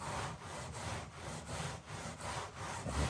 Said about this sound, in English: And you keep scrubbing until it's clean